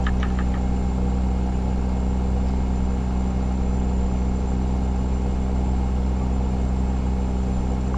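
A heavy truck engine with its jake brake engaged drones steadily and loudly with a deep, continuous rumble, no pauses or talking, in Euro Truck Simulator 2.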